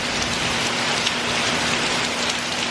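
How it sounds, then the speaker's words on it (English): Heavy, steady downpour during Hurricane Harvey, a dense unbroken roar of rain hammering surfaces close by, constant in loudness with no voices. "It's been raining like this for about 90 minutes."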